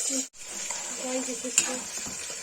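Kashmiri-style kohlrabi with cinnamon, turmeric and red chili frying in oil in a pot, a steady close sizzle and hiss with occasional faint clinks, under soft background tones.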